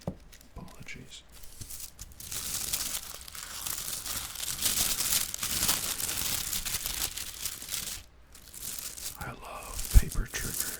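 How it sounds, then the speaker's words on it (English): Paper being crinkled and crumpled while a Lamy Dialog 3 pen is unboxed, crisp crackling bursts that come and go over several seconds, with quiet gaps and a short pause near the end. "paper triggers"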